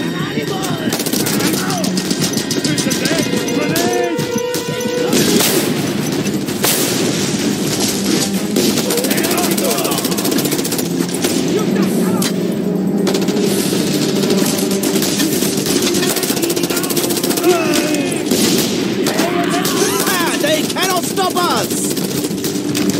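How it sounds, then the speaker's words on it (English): A mounted gun fires in the video game Just Cause 2, with dense, sustained bursts of automatic fire that stay loud and constant amid other battle noise throughout. "Damn it! Another mounted gun by the shrine."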